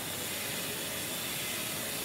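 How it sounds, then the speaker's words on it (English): A Japanese vending machine mechanism runs with a steady whirring, ratcheting hiss, continuous and fairly even throughout, with no voices. "we're waiting now for him to close the vending machine"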